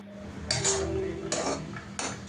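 A vegetable fry is stirred in a pan on the stove, giving three separate scraping, clattering strokes of a metal spoon against the pan over a low background hum.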